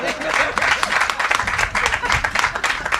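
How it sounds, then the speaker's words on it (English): Applause from a crowd at a Columbus housing strategy announcement: a short burst of steady clapping, with voices audible over the top. "y'all give Carol Perkins a round of applause for being here"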